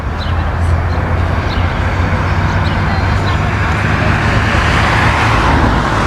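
Road traffic noise fills the scene loud and close, a steady roar of passing cars and vehicles on a busy roadway with a deep rumble underneath, with no voices clearly standing out.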